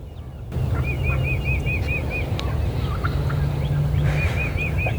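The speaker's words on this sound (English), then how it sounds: "they start gobbling. They're gobbling on the roost." Repeated rapid gobbling calls from wild turkeys on the roost at a moderate distance, in two bursts over a steady low hum of outdoor ambience.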